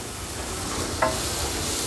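Tomato being stirred into sizzling masala in a hot pan, with a soft, steady frying hiss and one brief scrape of the spoon midway, close and alone with no talking.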